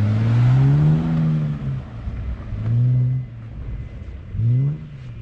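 A car engine revs hard, its pitch climbing in three rising sweeps with brief dips between them as the gears change into third, loud and close with no talking.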